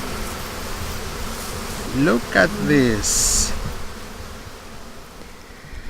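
Honey bees buzz steadily in the background near a reed-protected beehive in Crete while a person briefly speaks close by.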